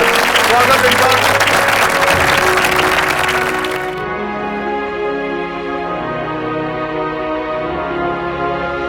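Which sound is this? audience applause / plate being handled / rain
audience applause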